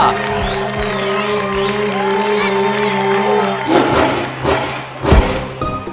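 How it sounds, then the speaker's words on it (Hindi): A crowd at a staged bull-taming show claps and cheers, first under a sustained musical drone, then breaking into louder whoops, thuds and bursts of applause toward the end. "इनके लिए जोरदार तालियां"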